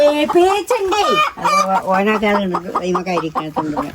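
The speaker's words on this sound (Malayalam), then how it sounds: "അതിന്റെ ഉള്ളിലെ കോഴിക്കളെ പേടിച്ചിക്കണ് ഇവനെ കണ്ടിട്ട് ഒച്ചിമണിയൊക്കെ ഉണ്ടാക്കണ്ട്" Frightened chickens clucking and squawking inside their coop, a dense run of agitated calls close by, with talk mixed in.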